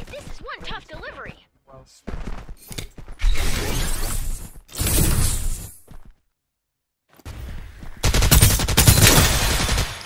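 Bursts of automatic gunfire in the battle game Farlight 84, rapid rattling volleys broken by short silences, with a voice shouting over the shooting.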